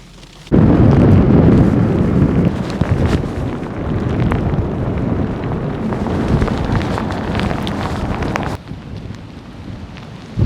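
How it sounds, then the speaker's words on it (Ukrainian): Storm wind gusting around 43 knots roars loudly and turbulently into the microphone, with heavy buffeting and rumbling bursts that ease slightly near the end. "Шторм 43 вузли відчувається отак"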